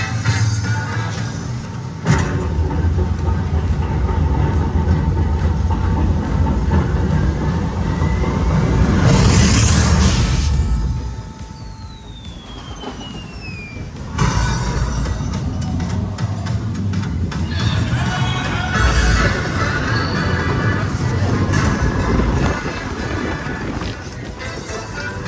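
The Mine Cart Madness coaster in the Donkey Kong Country land at Epic Universe: a continuous loud rushing roar of wind and rattling track, with sharp bursts and a brief drop in level midway, then the rush resumes.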